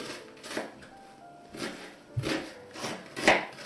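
A knife chops onion, chicken liver and carrot on a board in a handful of separate, fairly loud strokes, spaced unevenly, close by, with no talking.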